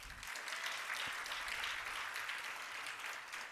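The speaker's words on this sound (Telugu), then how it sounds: "చప్పట్లు గట్టి కొట్టండి" Applause from a congregation at a Christian gospel meeting, steady dense hand clapping that keeps going at even loudness for several seconds with no speech over it.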